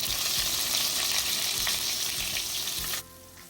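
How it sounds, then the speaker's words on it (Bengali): Chopped onions sizzle steadily in hot oil in a pan with whole spices (cinnamon, bay leaf, cloves, dried chilli, star anise, cumin) while being stirred, a loud continuous frying hiss that cuts off abruptly near the end. "পেঁয়াজগুলোকে ভালো করে নেড়ে চেড়ে একটা হালকা গোল্ডেন ব্রাউন করে ভেজে নিচ্ছে"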